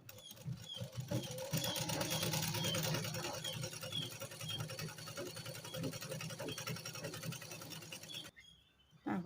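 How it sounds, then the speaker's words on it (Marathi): A sewing machine runs steadily, stitching a double seam on a garment, with a dense mechanical whir and rapid patter that stops abruptly near the end. "याला डबल शिलाई मी करून घेणार आहे"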